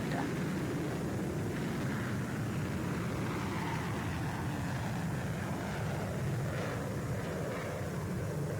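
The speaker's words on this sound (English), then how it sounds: "It's gonna be an E3 Sentry and a helicopter." Jet aircraft engine drone from an E-3 Sentry flying in the PTFS flight game, a steady broadband roar with low rumble held throughout, under faint talk.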